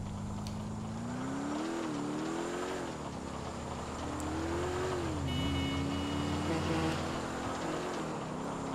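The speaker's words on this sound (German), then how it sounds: "Nehme ich nochmal meine Karre." Car engine from the video game GTA IV driving steadily, its pitch rising and dipping with throttle changes under ambient game sound, close and continuous throughout.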